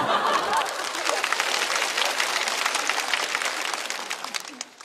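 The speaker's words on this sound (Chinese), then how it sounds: "不值得这个掌声吗？" Audience at a stand-up comedy show claps and cheers, a loud burst that gradually thins out, with scattered chuckles and crowd chatter mixed in.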